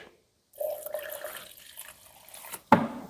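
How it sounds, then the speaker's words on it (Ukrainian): Clean thinner is poured into a spray gun, giving a steady liquid trickle for about two seconds, then a short sharp clack. "Затискаємо і наливаємо чистий розріджувач."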